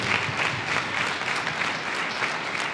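Sustained, even applause from an audience at a ceremony, with dense clapping throughout and no speech over it.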